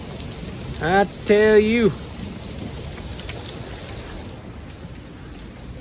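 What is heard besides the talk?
rain storm with thunder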